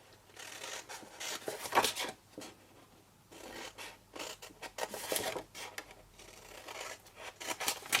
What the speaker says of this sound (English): We're going to cut up these score lines here